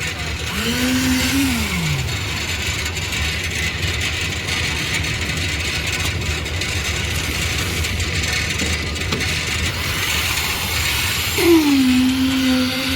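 A concrete vibrator drones continuously while a concrete roof slab is being laid, a loud, steady motor hum with a buzzing rasp, joined by brief whining tones near the start and end.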